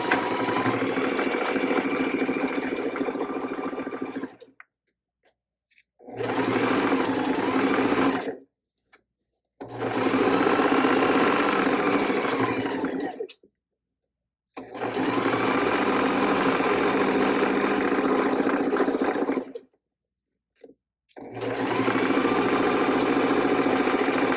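A basic crafter sewing machine runs through layers of fabric for a drawstring bag with a quarter-inch seam and backstitching, sounding as five loud, steady whirring bursts separated by short silent pauses.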